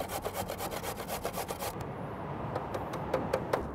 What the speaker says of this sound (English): We're just gonna go right on the grater here,